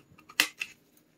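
A few quiet scissor snips cut a battery insulation strip with rounded corners, one crisp main snip followed by a softer second, close and faint.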